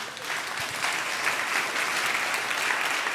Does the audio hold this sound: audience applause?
yes